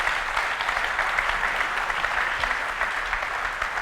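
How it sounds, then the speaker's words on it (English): An audience at a 2019 keynote gives a sustained, even round of applause, many hands clapping together at a steady level without pauses. "please welcome Gargana on stage with a warm round of applause"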